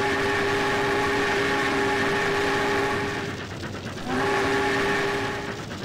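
A steam locomotive whistle sounds in the Trainz A New Era train simulator, a loud sustained multi-tone chord that cuts off briefly near the middle and then resumes, with no talking.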